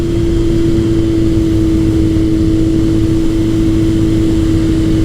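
A 1981 Kawasaki KZ1000 CSR motorcycle is ridden at a steady pace, its engine droning with a constant pitch under loud, continuous wind rush.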